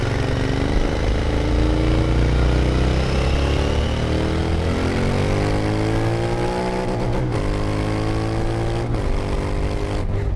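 A Royal Enfield 650 Interceptor cafe racer's engine pulls loud and close, its harmonic drone rising steadily through the gears with smooth, building revs and a couple of brief shifts near the end.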